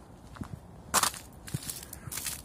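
Ice on a frozen puddle crunches outdoors on a freezing January day in Mersin, Turkey: a few short, crisp crackles, one brief burst more pronounced, all fairly faint and close with no voices.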